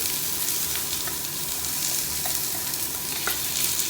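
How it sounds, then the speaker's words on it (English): Couscous stirred into a fruit mixture, a continuous close scraping and rustling texture with a faint sizzle-like hiss, steady throughout with no talking. "the last thing you want to do is adding your couscous to the fruit mixture"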